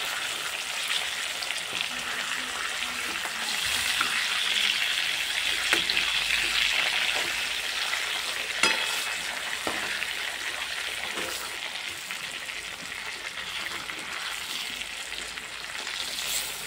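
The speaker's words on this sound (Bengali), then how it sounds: "এক সাইড ভাজা হয়ে গেছে, অন্য সাইড উল্টে দিচ্ছি।" Pangas fish fries in hot oil, a steady close hiss of sizzling with a few brief crackles and pops, no voices.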